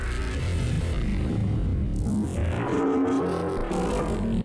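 Time-stretched, duplicated bass sample in a Neurobass production, a dense, grinding, continuous low-heavy tone with warbling, smeared texture that cuts off abruptly at the end.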